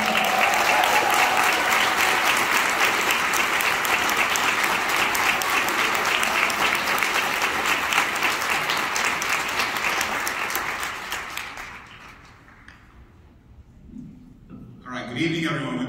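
A large audience at the Fox Theater in Detroit applauds loudly and steadily for about eleven seconds during a governor's service awards ceremony, then fades out as a speaker begins.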